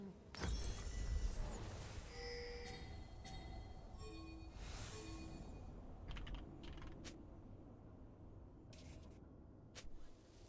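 Computer keyboard typing during a League of Legends match, with quick irregular key clicks and clatter in bursts over a quiet background, fading to sparse taps toward the end, no talking.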